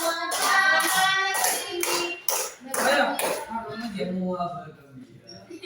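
Several rhythmic rounds of finger clapping, counted off in bursts of one to five, mixed with a group chanting along loudly close by in a classroom lesson.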